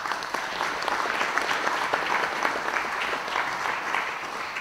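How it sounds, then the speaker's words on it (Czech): A conference audience at CityCON 2016 bursts into dense, sustained applause, loud and close, many hands clapping at once for the full few seconds with no speech over it. "Já myslím, že si zaslouží váš potlesk"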